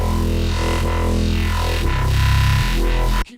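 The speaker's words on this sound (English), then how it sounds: "What I like to use is coming from my GT1000 and it sounds like this" A thick, fat synth bass from a Boss GT-1000 effects unit, loud and continuous, shifting pitch midway with sweeping filtered harmonics before stopping sharply.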